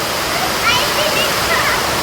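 Heavy rain pours with strong gusting wind in a village storm, a loud, steady broadband rush of water that holds evenly for the whole stretch with no pauses.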